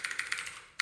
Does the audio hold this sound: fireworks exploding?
no